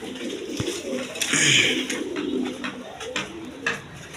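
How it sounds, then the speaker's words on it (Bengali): Pair of high-flying Giribaz pigeons at a seller's, cooing softly in bursts amid clattering background noise and a little nearby talk. "এইখানে এক পেয়ার কবুতর আছে হাই ফিলাইং গিরিবাস কবুতর দেখেন"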